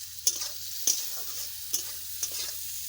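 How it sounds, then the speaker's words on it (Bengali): Potatoes frying in a kadai give a steady close sizzle, broken by four sharp scraping stirs at irregular intervals, with no voices. "এটা ভাজতে ভাজতে আলু গলে গেছে"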